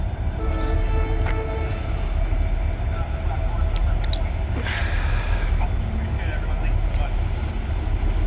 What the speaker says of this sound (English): here we have BN1 and 2 coming back with the coach train